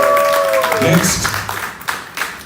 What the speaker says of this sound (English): Let's give Carla a round of applause.